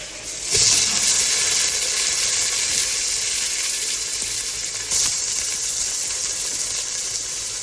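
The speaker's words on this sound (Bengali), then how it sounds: "এখন দিয়ে দিচ্ছি তেজপাতা আমাদের বাগানে তেজপাতা এখন পোলাওয়ের চালটা" Bay leaves and polao rice fry in hot oil in a pan, giving a loud, steady sizzle with brief crackling flare-ups as the rice is added and stirred, with no talk.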